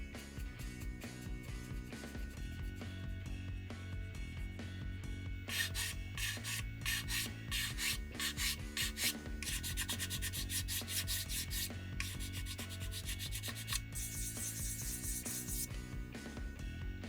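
Steady scraping and rubbing of sandpaper on the plastic seams of a 1/72 scale Mi-8 helicopter model, in rhythmic back-and-forth bursts that grow brighter and harsher, over a faint music background.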